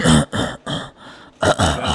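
A voice imitates a hacking morning cough, several rough, throaty bursts with short pauses between them, close and loud.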